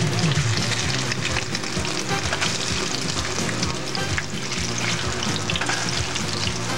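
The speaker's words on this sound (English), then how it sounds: "I'm putting them in the frying pan with the oil." Steady, dense sizzling and crackling of pancake batter frying in hot oil in a pan, close and continuous with no talking.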